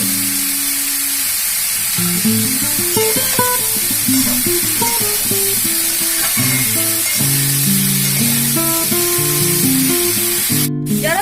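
Papaya curry being mixed in a pan: a loud, steady sizzling hiss runs throughout, with the stirring sounds blending into the frying noise.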